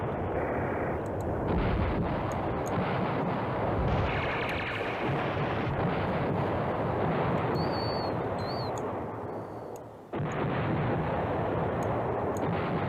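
Artillery bombardment in the Command Ops 2 war game, a continuous heavy rumble of shelling with dense booming blasts that rolls on for several seconds, briefly dips, then surges back at full strength.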